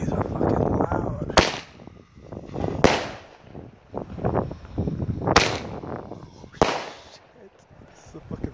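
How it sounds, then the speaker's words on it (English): A G-Force Roman candle fires a series of sharp, loud cracks, four distinct shots at irregular intervals, heard close by under excited chatter from people nearby. "This is a fucking Roman candle."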